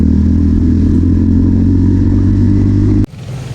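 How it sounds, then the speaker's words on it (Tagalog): Loud, close motorcycle engines idling and running steadily on a road trip, a deep continuous drone that cuts off abruptly near the end, leaving quieter road noise. "Ayan, mga motor natin."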